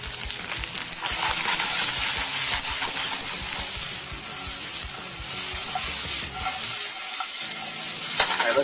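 Vegetables and greens stir-fry in hot sesame oil for a ramen stir-fry, with a loud, continuous sizzle, occasional scraping and clinking from stirring, and a brief dip near the end.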